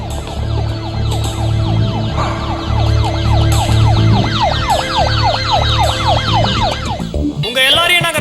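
A police siren wails loudly and close, cycling in rapid rising-and-falling sweeps over a steady engine drone, then switches abruptly to a faster warbling pattern near the end.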